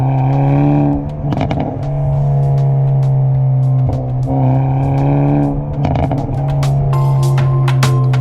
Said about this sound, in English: what's more than that is the sound that you get when you rev it out